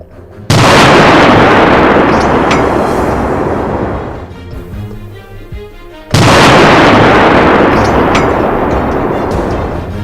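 Two loud, close M777A2 howitzer shots, each a sudden heavy boom followed by a long rolling roar that fades over several seconds, with a quieter gap between the blasts.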